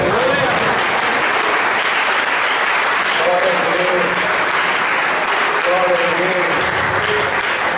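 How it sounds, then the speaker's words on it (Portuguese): A church congregation gives a sustained round of applause, dense and loud throughout, with voices faintly audible within the clapping. "Você pode dar uma salva de palmas?"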